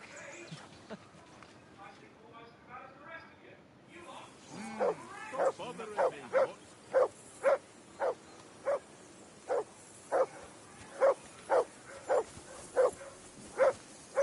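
A dog barks repeatedly in a steady rhythm in the video game Kingdom Come: Deliverance II, sharp and close, after a stretch of talking and background noise.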